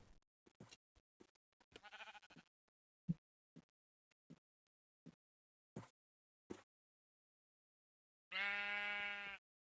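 Sheep bleat in the Minecraft video game amid clipped in-game hit and step sounds, a series of short bursts ending in one long, loud bleat.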